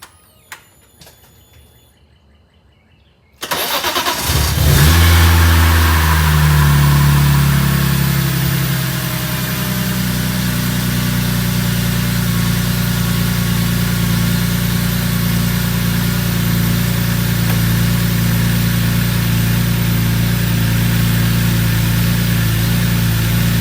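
A BMW S54 engine from an E46 M3, Z3 M or Z4 M cranks briefly and fires after a few quiet seconds, flares loudly, then settles into a steady, rumbling idle that stays loud and close.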